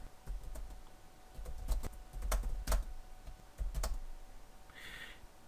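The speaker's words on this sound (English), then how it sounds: "I can then begin to type what I want" Someone types quietly on a computer keyboard, producing scattered clicks and soft clusters of keystrokes with uneven pauses. A brief higher-pitched tap comes near the end.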